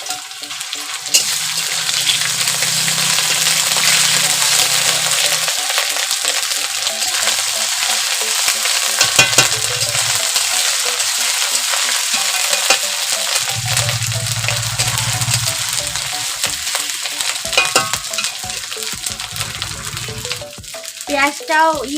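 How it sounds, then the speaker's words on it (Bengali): Onion paste frying in a pan during home cooking of a fig (dumur) curry, a steady loud sizzle throughout with occasional stirring scrapes. "এখন দিয়ে দেবো পেঁয়াজ বাটা,"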